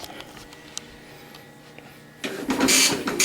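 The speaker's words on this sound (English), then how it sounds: "See how it's printing in both directions and not just one?" Panasonic KX-P1524 wide-carriage dot matrix printer running in draft quality: a low steady mechanical hum for about two seconds, then a loud, buzzing print pass with rasping bursts that fills the last second.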